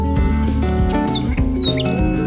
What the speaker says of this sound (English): Nightingales are famous for their melodious songs